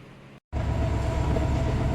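Mohanagar Provati intercity train departing Kamalapur railway station in Dhaka on the Dhaka–Chattogram route: a loud, steady rolling rumble that drops out briefly near the start, then resumes and holds evenly.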